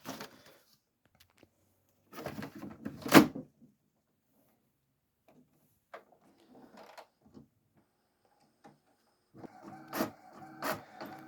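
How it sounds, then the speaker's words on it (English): A printer feeding and printing postage labels produces two clear bursts of mechanical whirring and clicking, separated by a quiet gap, close and moderately loud. "In they go to the printer, label side down."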